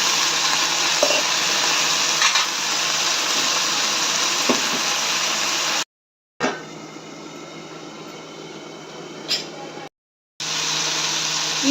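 Chopped brinjal fries in a kadhai after a sprinkle of water, giving a loud, steady, dense sizzle with occasional small pops, cut by two brief gaps of silence.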